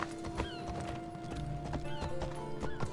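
Horse galloping in Assassin's Creed Odyssey, steady rapid hoofbeats with a whinny over a sustained background music tone, close and fairly quiet.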